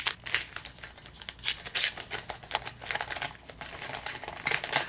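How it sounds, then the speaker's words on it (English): A paper envelope is torn and pried open by hand in a long stretch of close, crisp ripping and crinkling bursts, loud and irregular, with no speech over it. "How do you make these envelopes so difficult to open, by the way?"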